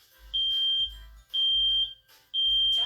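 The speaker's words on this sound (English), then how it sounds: "if you hear a smoke alarm" A smoke alarm sounds three long, shrill, evenly spaced beeps, each about half a second long with short pauses between them, loud and clear with no talk.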